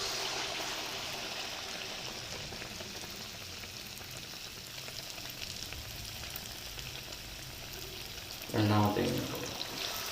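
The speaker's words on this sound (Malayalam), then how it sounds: "എണ്ണ ചൂടായിട്ടുണ്ട്. നമുക്ക് അതിലേക്ക് ഈ പഴംപൊരി ഇട്ട് കൊടുക്കാം." Batter-dipped ripe plantain fritters slide into hot oil in a cast iron pan, a steady sizzling hiss that swells into a louder burst of frying near the end, close and continuous with no talk.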